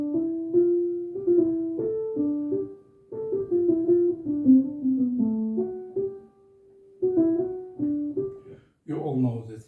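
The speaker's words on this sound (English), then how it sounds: "For example, the theme in the major fugue sounds like this." A solo melodic line played on a keyboard-like instrument, steady stepping notes in phrases with a short pause, ending in a denser chord.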